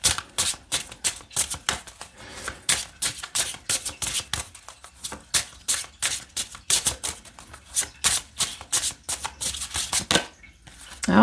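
Tarot cards being shuffled close up, in quick repeated riffling bursts with short pauses between them.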